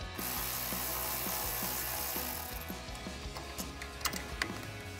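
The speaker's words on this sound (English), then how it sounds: "So we'll take that 10mm socket to remove this bolt." A ratchet with a 10mm socket rapidly clicks while backing out an upper control arm bracket bolt on a truck during a front leveling kit install, with continuous pawl clicking up close and sharper metallic ticks toward the end.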